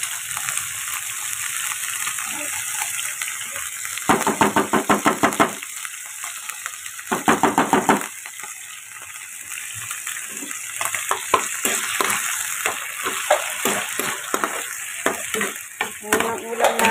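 Corned beef and potatoes sauté in a pan, a steady sizzle running throughout, with bursts of loud scraping and clattering as a utensil stirs the food at intervals.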